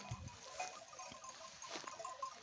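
Faint, distant sheep bleats on a green mountain pasture in early summer, a few thin calls over quiet open-air background, with no talking.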